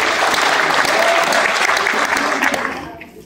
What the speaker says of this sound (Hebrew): המחיאות כפיים הם זה עבורכם, אז תמחאו כפיים חזק